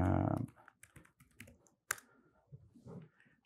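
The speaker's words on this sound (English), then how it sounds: "If I could type." Scattered taps on a computer keyboard during a remote-shell demonstration, faint and irregular, following a short burst of louder sound at the start.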